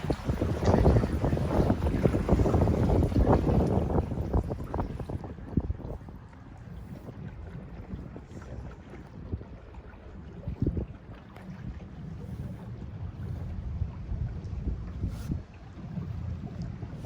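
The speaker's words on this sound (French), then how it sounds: "Là, on entend à nouveau l'eau." Water sloshing and rushing past the hull of an electric boat on a lake in Metz, loud and close at first with wind buffeting the microphone, then settling into a softer steady lapping with a low rumble.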